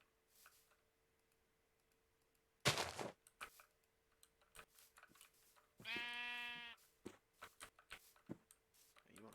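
A sheep in the video game Minecraft bleats once, a clear wavering call in the middle. Short game clicks and taps come before and after it.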